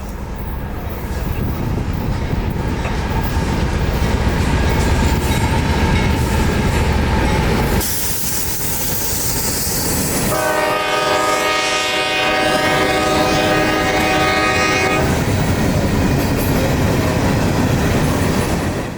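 A southbound mixed manifest freight train passes close and loud, with sustained horn blasts sounding partway through over a continuous rumble and wheel noise.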